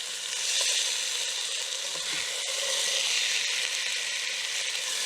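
Salted and peppered cod pieces brown in a hot pan, giving a continuous bright sizzle that holds level throughout, with a faint knock or two from the pan and no speech.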